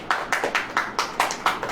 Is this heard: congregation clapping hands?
yes